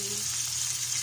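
Steady, close sizzling of marinated pork frying in hot oil in a pan, a continuous crackling hiss with a faint low hum beneath.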